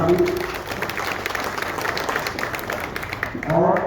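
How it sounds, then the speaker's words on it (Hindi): Audience at a public event in Jharkhand gives a round of applause, a moderate, even wash of clapping that fills a few seconds, with a voice briefly heard at the start and end. "इसके लिए जोरदार ताली।"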